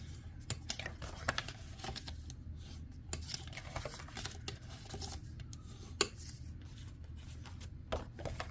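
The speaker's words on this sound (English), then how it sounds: "So now we are going to fold and burnish on all of the score lines." Cardstock being folded and burnished along score lines makes quiet, irregular taps, clicks and brief scrapes in a soft, close patter, with one sharper click standing out.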